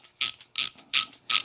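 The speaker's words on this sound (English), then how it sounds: "is unscrewing, so counterclockwise is going to unscrew or push out this stem" Stem of a Short Action Customs Infinity Arbor seating die being unscrewed counterclockwise, giving four evenly spaced bursts of sharp ratcheting clicks, loud and close.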